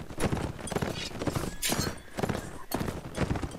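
Galloping horse hooves in the Mount&Blade: Warband video game, rapid clip-clop bursts in close repeated clusters, loud and near, with occasional pauses between runs.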